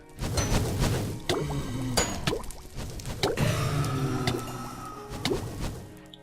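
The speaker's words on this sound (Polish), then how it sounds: "Słyszę jakieś bąbelki, jakby to jakaś wiedźma była." Bubbling and dripping liquid, like a witch's brew, sounds in a Minecraft game, with repeated gurgles and splashy pops mixed with thuds and other game noises at moderate level.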